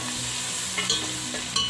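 Medium tomatoes added to a pot of beef pulao base fry with a steady close sizzle, marked by a couple of brief stirring scrapes, with no voices.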